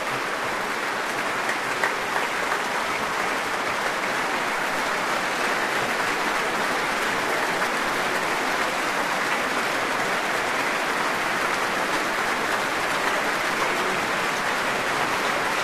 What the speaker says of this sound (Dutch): Nou, het publiek voelt zich op dit moment allerminst slecht. Applaudisseert gul voor deze uitvoering.